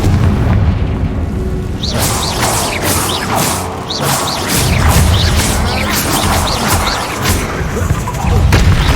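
Repeated Confringo spell blasts in the video game Hogwarts Legacy, a rapid series of sharp booming explosions and crackling impacts over a loud, continuous combat din.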